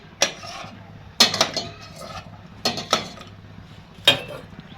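Metal utensils clink and scrape against a pan while cashews fry on a gas stove in a home kitchen, in four separate bursts of clatter with quiet gaps between them, close to the mic and with no talking.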